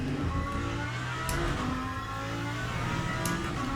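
A Lamborghini race car engine drones loud and steady as it accelerates through a corner, a continuous close revving roar with shifting tone and no talking.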